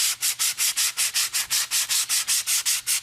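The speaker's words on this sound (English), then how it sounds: "if you just take your sandpaper and kind of go over the edge" Sandpaper rubs along the edge of a painted wood piece to distress it, a loud rhythmic rasp of about fifteen quick, even back-and-forth strokes up close.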